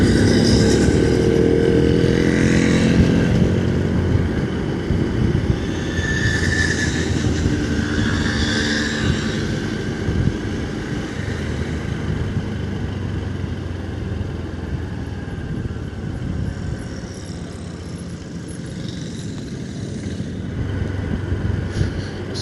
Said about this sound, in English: that BSA Bantam is extremely noisy and his back tyre's nearly flat